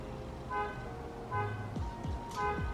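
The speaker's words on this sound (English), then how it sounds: "who is honking?" Car horns honk outside in a few short toots, faint and somewhat distant, over low traffic rumble with a couple of brief swooping sounds.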